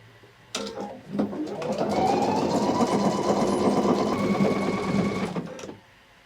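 A Pfaff Icon sewing machine stitches a design in a fast, steady mechanical whir that starts after a click, runs evenly for several seconds, then stops, loud and close with no talking.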